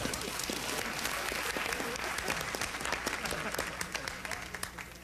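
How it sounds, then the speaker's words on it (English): A studio audience claps steadily and loudly on a television talk show set, dense continuous applause with scattered sharper claps, holding throughout with no break. "Keep up the clapping!"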